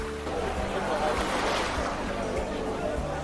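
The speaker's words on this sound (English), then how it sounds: "As the waves crash against the layered rocks" Ocean waves crash against layered coastal rocks in a steady, close surf roar: a broad rushing wash that swells in the middle and stays dense throughout.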